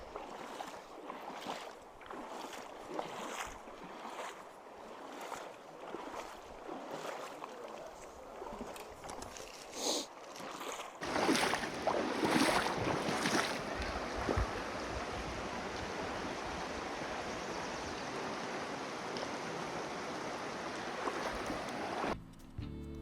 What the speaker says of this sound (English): this kind of channel here created such a crazy wind tunnel that you could barely hear anything I was saying in this video